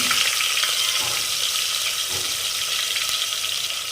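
Green chillies with grated ginger and garlic frying in a pan for vegetable biryani, giving a loud, steady, close sizzle that runs unbroken throughout with no talking.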